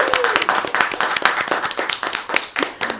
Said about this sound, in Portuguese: eu quero pedir um forte aplauso para Fernanda Brum.